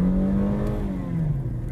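A 2020 Volkswagen Polo with a 1.6 engine pulls away in first gear, its steady engine note rising and droning loudly close by, with no talk over it.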